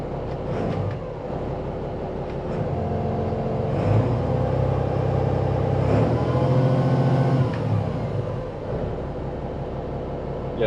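A single diesel engine running aboard a 2000 Pursuit 3400 boat, a steady low droning hum with a faint rise and fall in pitch, close by and continuous with no talking.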